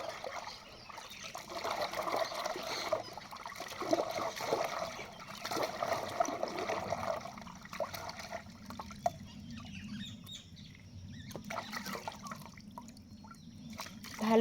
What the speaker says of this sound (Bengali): তো এখন আমি মাছগুলি ধুয়ে নেব